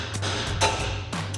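A hammer strikes a steering knuckle at the upper ball joint of a Ram 1500 front end, giving three or four sharp metallic hits spread over a second and a half.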